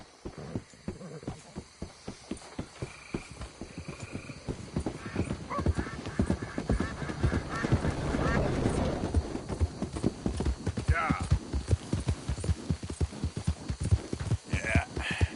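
Horse hooves clip-clop steadily in Red Dead Redemption 2, a close, continuous rhythmic patter of hoofbeats with an occasional neigh or whinny breaking through.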